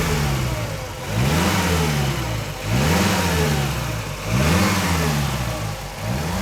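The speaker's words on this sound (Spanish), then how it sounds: "llegamos al motor del Fiat 1100" The engine of a 1963 Fiat 1100, a small pushrod four-cylinder, revs up and down three times in a repeating rise-and-fall pattern, close and loud with no other sound.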